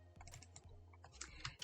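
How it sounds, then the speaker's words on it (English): Keys clatter in quick, uneven bursts as text is typed on a computer keyboard while designing a slate sublimation piece in Cricut Design Space, close and fairly quiet with no talking. "I'm going to type my text"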